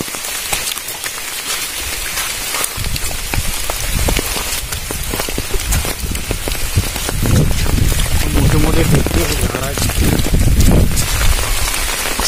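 First monsoon rain of the season in Rajapur, Konkan, falls steadily on surfaces and an umbrella, a dense hiss that swells louder in the second half with faint distant rumbling, while a person talks intermittently.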